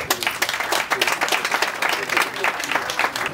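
Audience applause at a French local campaign meeting for the 2nd arrondissement, steady dense clapping throughout with voices mixed in.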